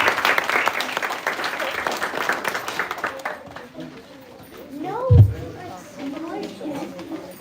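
Audience applause at a community public speaking competition, a dense burst of clapping for about three seconds that fades as talk takes over near and clear.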